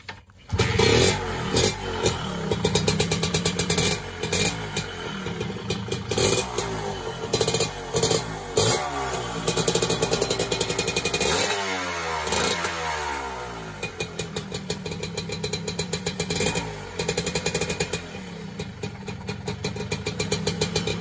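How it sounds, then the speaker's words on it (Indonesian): An old 1979 motorcycle engine sputters to life and runs unevenly, with repeated revs and throttle blips, loud and close throughout. "kita tes mesinnya saja ya langsung ya coba kita hidupkan kontaknya"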